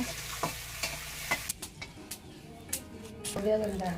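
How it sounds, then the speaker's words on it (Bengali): Garlic fries in a pan in a village kitchen, giving a sizzling crackle under a series of sharp scraping stirs and clinks, while people talk nearby. "রসুন বাজতেছে, ভাজাভাজির কাজ চলতেছে"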